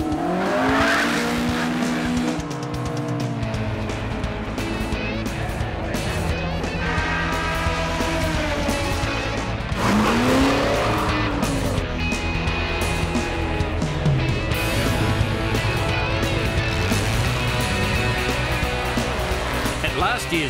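A Mark 1 Ford Cortina race car is driven hard at a GT series meeting, its engine revving up and down with tires squealing through corners, loud and close, with a voice speaking over the engine noise.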